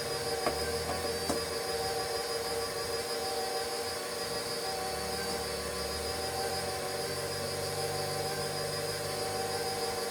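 An electric stand mixer fitted with an attachment beats banana bread batter, giving a steady, close motor whine and hum that runs unbroken for the whole stretch, with no talking.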